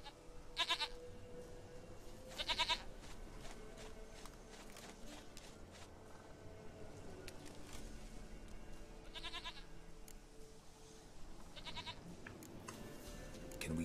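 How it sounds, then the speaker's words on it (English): A goat bleats in a video game: a few short, nasal bleats stand out, two early and two more later, over quiet background ambience and soft footstep-like noise. "Goat of mine, dearest, sweetest goat."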